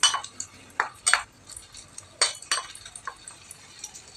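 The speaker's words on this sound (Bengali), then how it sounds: "আমি আলু ভাজতেছি" Potatoes frying in a pan are stirred with a utensil, giving sharp metallic scrapes and clinks at irregular moments over a faint background, close by.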